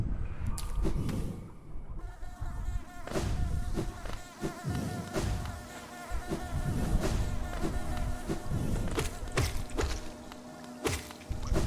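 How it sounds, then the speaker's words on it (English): Bees buzz in the Hollow Knight video game near Kingdom's Edge, a steady insect drone under game sounds with thumps and clicks of movement throughout. "These bees are really cute"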